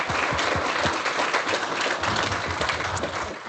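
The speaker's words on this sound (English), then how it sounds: "How about a round of applause?" Conference audience applauding at a smart manufacturing event, a dense, loud burst of clapping from a crowd, sustained evenly throughout.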